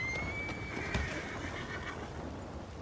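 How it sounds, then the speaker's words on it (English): A horse in Red Dead Online gives a drawn-out whinny over soft ambient game sound, with a brief thump midway, fairly quiet and without talk. "I was just trying to get on my horse."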